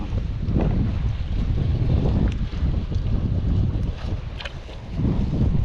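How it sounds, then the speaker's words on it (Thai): Strong wind blowing across a seaside fishing pier, a loud rumbling buffet of gusts against the microphone that swells and eases in waves, with no one talking. "เสียอย่างเดียวที่ลมแรงไปหน่อยนะครับ"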